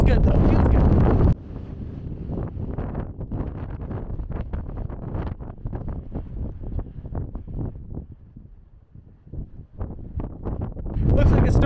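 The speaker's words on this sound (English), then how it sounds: "it's getting really windy and kind of scary up here" Strong gusts buffet a mountain summit in Rocky Mountain National Park, with loud wind roar on the microphone at the start and end and rougher bursts between them.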